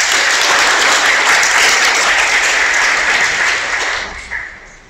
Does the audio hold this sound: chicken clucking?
no